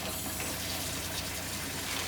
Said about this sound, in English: I'm going to turn the water on with a dry paper towel